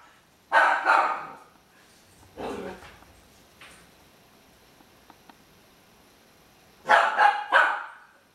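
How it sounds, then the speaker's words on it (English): A dog barks in short bursts: a quick pair, a single bark, then a rapid cluster of three near the end, close and fairly loud, with quiet gaps between. "There's seriously a car driving by and my dog has to bark"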